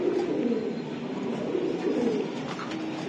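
A pair of racing pigeons cooing close by, a low continuous throaty warble that rises and falls, loud and alone without talk.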